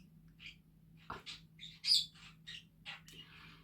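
Several pet birds chirp and tweet in short, bright bursts, fairly loud and close, with a steady low hum underneath.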